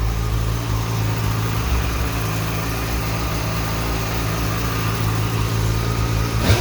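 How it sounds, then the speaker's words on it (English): A vehicle engine idles after a cold start, a steady, loud, close rumble with a constant low drone and no change in rhythm, no talking. "I'm gonna give you guys a cold start of each vehicle too"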